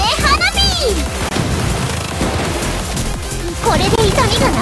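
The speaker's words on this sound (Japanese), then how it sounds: "じゃーん、もつきちゃん特製花火。" Bursting, crackling pops and booms from a fireworks skill effect in Blue Archive, layered over busy music and chattering voices throughout.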